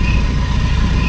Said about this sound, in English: So I've just started the car, be very careful.